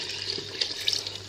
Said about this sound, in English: Now that it's well mixed, I'm going to add in my stock.